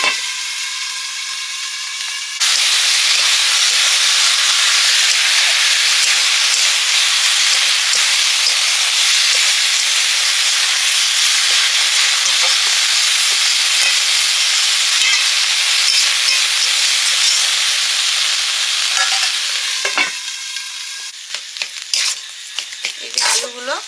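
Fish and potatoes frying in a pan for a Bengali dish: a loud, dense, hissing sizzle that holds steady and close, turning to clinks and scrapes of stirring near the end.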